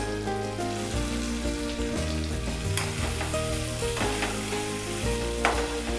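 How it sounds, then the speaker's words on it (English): Onions sizzle steadily in hot oil with browned garlic-ginger paste for restaurant-style paneer bhurji, a close, continuous frying crackle with occasional stirring scrapes. "now I'm going to add in the onions."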